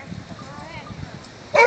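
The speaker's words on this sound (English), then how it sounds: "Now she's doing the bark alert." A search and rescue dog gives a bark alert during an outdoor demonstration, a faint whimpering yip over crowd noise followed by one loud close bark at the end.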